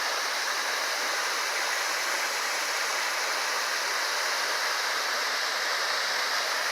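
Waterfall rushing steadily on a windy day along a nature walk, a dense, continuous broadband roar of falling water with no break or voices throughout.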